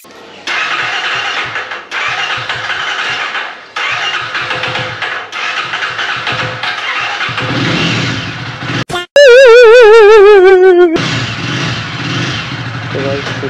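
A Jawa 42 Bobber motorcycle with a starting problem, partly dismantled for testing, is cranked and turns over, then settles into a loud steady idle with a brief tonal whine near the end.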